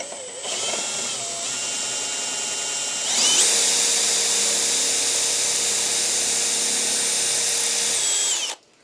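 A power drill drives screws up through pilot holes in a wooden board, a whining motor that rises in pitch and holds a steady loud buzz before cutting off.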